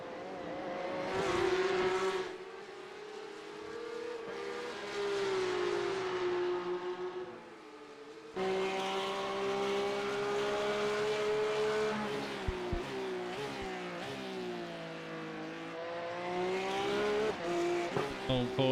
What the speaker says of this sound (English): Full Porsche noise for our ears.